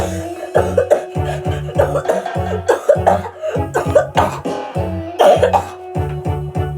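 Repeated harsh coughing in rapid rhythmic bursts, loud and close, continuing through the whole stretch with brief gaps between coughs.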